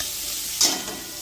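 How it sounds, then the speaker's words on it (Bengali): Sliced onion fries in hot oil with a continuous close sizzle and a brief stirring scrape partway through; no talking. "দিয়ে এবারে পেঁয়াজটাকে আমি ভাজা ভাজা করবো।"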